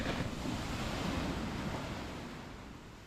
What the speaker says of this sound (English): look at the wave!